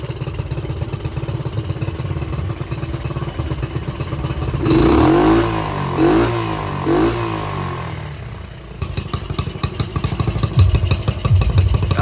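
Small Honda CT70 minibike engine, a little smoky, idling with a steady putter, then blipped through several quick revs before settling back to a close, continuous idle.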